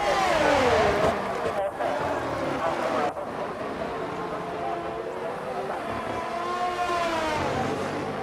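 Formula 1 race cars in a video game scream past one another down a straight, their engine notes rising and falling in sweeping pitch as they pass close by, loud and continuous.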